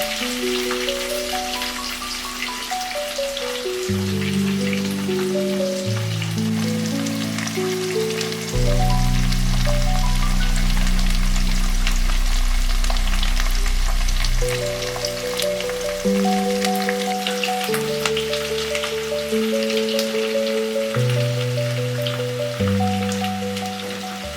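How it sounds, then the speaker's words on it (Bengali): Onions fry in a pan for a spicy Bengali fish curry, giving a soft, even crackling sizzle that runs steadily throughout beneath louder background music. "পেঁয়াজটা একটু ভালো করে ভেজে নেব"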